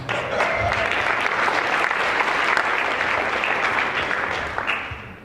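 An audience at a jewelry trade show in Dallas applauds, with sustained clapping from a crowd that runs strong for about five seconds before tapering off.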